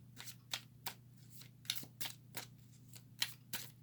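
Tarot cards being shuffled in short bursts, a series of crisp riffling swishes at a steady rhythm over a faint low hum.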